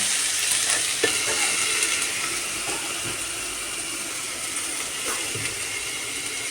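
Vegetable curry sizzles and fries steadily in a pan, a continuous close crackle of oil with occasional soft clinks, no talking.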